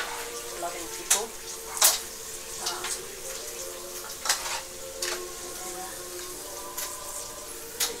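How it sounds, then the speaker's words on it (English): Yams frying in a pan, a soft steady sizzle beneath a background hum, broken by several sharp clinks and clatters from stirring or utensils, close by. "The yams are frying."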